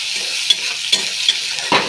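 Onions, chili, ginger and garlic sizzle steadily in hot oil while a spatula scrapes and stirs them in a few distinct strokes, the last one heavier, close up with no talking.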